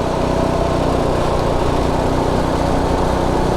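A Predator 212 Ghost small single-cylinder engine holds a loud, constant buzzing drone at top speed, close up and without voices.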